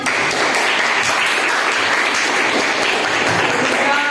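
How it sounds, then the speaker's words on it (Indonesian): A classroom group in an Indonesian lesson on argumentative texts applauds: loud, dense, steady clapping from many hands that fills the whole stretch without a break. "Beri tepuk tangan."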